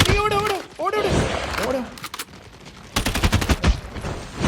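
Gunfire in Call of Duty Mobile zombie mode: rapid bursts of automatic shots crackle in clusters, mixed with in-game effects and players talking excitedly over the shooting.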